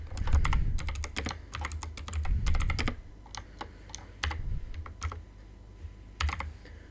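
Bursts of rapid keystrokes on a computer keyboard, entering a channel name into an HTML document, come in several clustered runs with short pauses between them, close and fairly loud.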